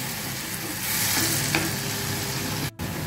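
Tomato paste fries loudly in a pan and is stirred continuously, a dense close-up sizzle with scraping, interrupted by a brief drop near the end.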